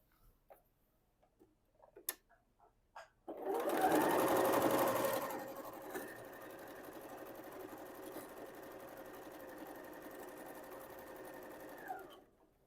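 A sewing machine stitches quilt fabric pairs into blocks, running in one loud burst and then settling into a steady, quieter whir for several seconds, with a few soft handling clicks before it starts.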